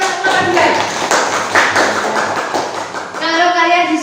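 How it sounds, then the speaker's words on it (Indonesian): A class of students claps for group 2 in a classroom, a brief burst of loose, uneven hand claps and taps mixed with voices and chatter. "Beri tepuk tangan untuk kelompok 2."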